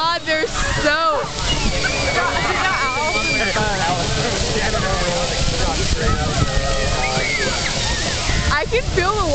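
An outdoor water fountain in Seattle splashes and sloshes continuously nearby, while excited voices, including shrieks and chatter, ring out over the water throughout.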